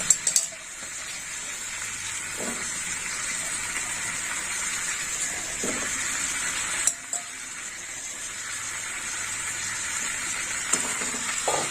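Malabar spinach cooks in a pan with tomato, giving a steady, close sizzle with occasional scrapes and clinks of a spatula stirring against the metal.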